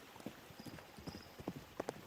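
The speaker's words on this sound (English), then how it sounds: "Hilda leapt over bushes and boulders with such playful energy, Kyoko hardly recognized her, besides there being a pale horse" Horse hooves clip-clopping at a lively pace, a quick irregular series of sharp knocks, faint and close, used as a sound effect in an audiobook.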